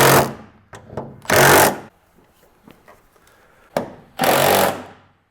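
Hood bolts on a Jeep are driven home with a power tool in two loud, sustained bursts, each about half a second to a second long, with lighter clicks and knocks of handling in the quieter gaps between them.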